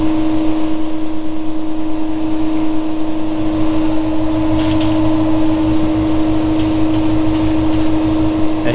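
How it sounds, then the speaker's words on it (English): An aerosol can sprays Bulldog adhesion promoter onto plastic car scoops in a garage, with one longer hiss followed by four short bursts over a steady humming background. "spray a little bulldog on this right here because I went to plastic"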